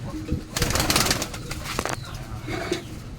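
Pigeons released from a loft take off with a burst of flapping wings close by, followed by rustling movement and scattered faint cooing.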